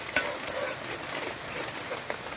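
Ground fish masala paste sautéed in a pan, a soft steady sizzle with occasional sharp clicks of a spoon stirring, close and fairly quiet, with no talking.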